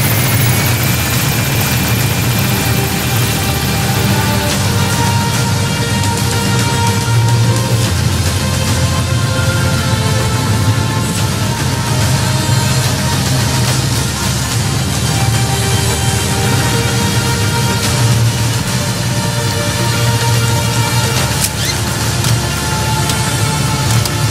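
Helicopter in the video game Metal Gear Solid V flies with a loud, continuous rotor thrum and engine drone, steady throughout.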